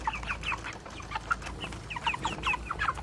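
Meat chickens in a farm setting cluck in short, repeated bursts, several birds calling near and fairly clearly over a low background hum, with no talking.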